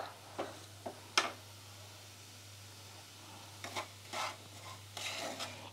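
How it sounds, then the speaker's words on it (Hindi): Peanuts with salt dry-roasting in a pan on a low-medium gas flame, with faint, scattered scrapes and light clinks from stirring, some isolated and some in short clusters, over a quiet steady hum. "हमें लो मीडियम में फ्राई करना है पाँच से सात मिनट का टाइम लगेगा"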